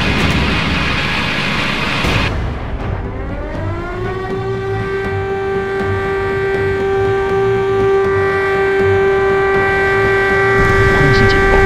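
Air raid siren in a fighter jet and helicopter combat game, a steady wailing tone that rises in pitch and then holds loud and sustained over rumbling noise.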